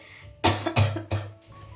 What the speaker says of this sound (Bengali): কাশি হচ্ছে আর কি